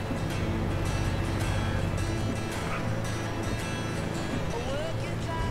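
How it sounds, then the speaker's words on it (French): Volvo FH16 750 truck with a 16-litre engine in Euro Truck Simulator 2, engine braking downhill with a steady deep rumble under continuous talking. "Moi je descends tout au frein moteur là."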